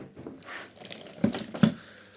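Water runs into a tub being half-filled for a paludarium setup, heard as close, uneven splashing and trickling with a couple of louder sloshes.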